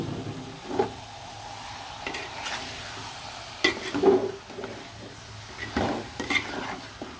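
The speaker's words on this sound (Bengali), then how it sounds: "খুব সুন্দরভাবে মশলার সাথে একদম কষিয়ে নিব" Meat stir-fried with spice paste in a pan: close, repeated scraping and stirring strokes over a steady sizzle, with occasional metallic knocks of the spoon, and no voices.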